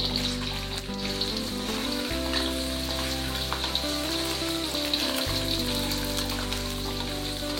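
Jengkol beans frying in hot oil give a steady, loud, continuous sizzle and crackle throughout, with no voices over it.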